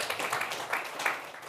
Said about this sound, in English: it really deserves a round of applause